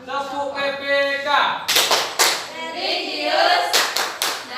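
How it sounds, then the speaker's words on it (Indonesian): Primary-school children in a fifth-grade classroom perform the PPK clapping chant: sharp, loud bursts of group hand claps fall in a rhythmic pattern between stretches of children chanting together in unison. "Sekali lagi anak-anak, tepuk PPK"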